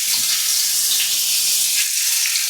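Rabbit meat frying in a preheated pan, a steady close sizzle and crackle of hot fat that holds evenly throughout without talk.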